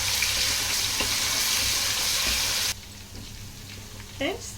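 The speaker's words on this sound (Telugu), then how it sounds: "మనం తీసుకున్న ఈ 2 స్పూన్ల అల్లం వెల్లుల్లి పేస్ట్ వేసేసుకున్నాక ఇది మంచి కలర్ రావాలి ఫ్రెండ్స్." Ginger garlic paste frying in a pan for a fish curry, a loud continuous hissing sizzle that drops off abruptly partway through, leaving quieter crackling and a brief scrape near the end, with no talk.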